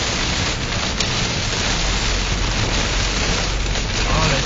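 Hail pounds a car driving through a storm on a country road, a dense, loud, continuous hammering drumming over the body and windshield with no pauses.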